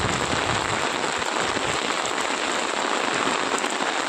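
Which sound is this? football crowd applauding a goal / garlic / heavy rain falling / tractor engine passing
heavy rain falling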